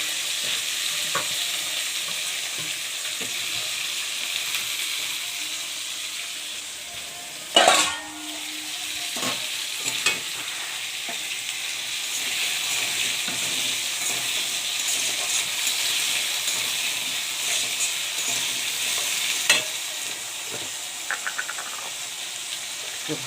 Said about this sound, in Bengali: কড়াইয়ের মধ্যে তেল দিয়ে দিয়েছি, এর মধ্যে একটু গোটা জিরে দিয়ে দিলাম। তারপরে আমি আলুগুলো দিয়ে দেবো।